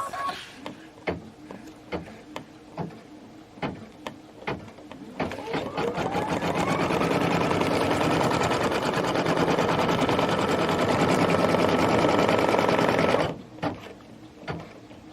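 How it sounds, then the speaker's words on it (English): A sewing machine stitches a placement line for a quilted snowman project. A few scattered clicks and taps come first, then a steady, fast mechanical whir runs for about seven seconds and stops abruptly. "we are going to stitch our placement line for this"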